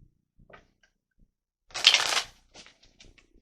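A deck of tarot cards is shuffled in one brisk, close riffle lasting about half a second, followed by a few soft card taps in a quiet room.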